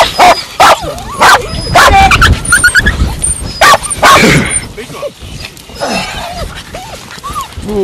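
A terrier barks and yips sharply during a ratting session, giving loud, close, rapid bursts with whimpers between them, while other voices and outdoor noise carry on in the background.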